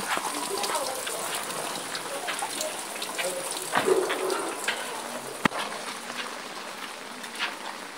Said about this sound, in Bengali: ঢাকা শহরে খুব বৃষ্টি হচ্ছে।